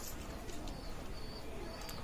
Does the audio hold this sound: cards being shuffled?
no